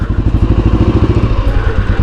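Motorcycle riding slowly over a slippery, muddy pond-clay road after rain, its engine thumping in a steady close rhythm with faint clatter throughout.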